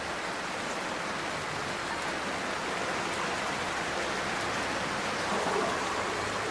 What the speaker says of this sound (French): Parce que commencé à faire une forte pluie.